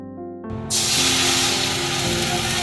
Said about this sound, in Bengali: তেলের মাঝে সিমাইটাকে ভেজে নেবেন।